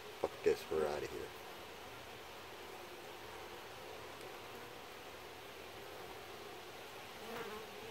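A soft, steady buzzing of many honeybees at a hive hums throughout, with a few brief close handling knocks near the start.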